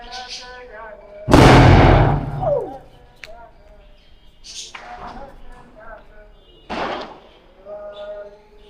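Firecracker bursting during Diwali: one sharp, loud bang that rings out briefly, with fainter pops and crackles following and a voice talking between them.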